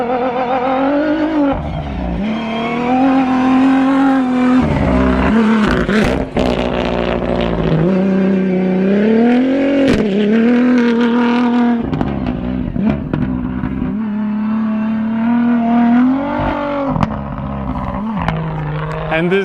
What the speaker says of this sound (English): this guy is driving carefully because it's his first Dakar rally ever